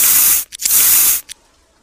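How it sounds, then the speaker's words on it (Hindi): Spray sound effect in an animated ASMR hand-treatment scene: two loud, bright hissing sprays, each about half a second, with a short puff between them, then a brief final spritz and silence. "अब हम लोग स्प्रे मार देंगे।"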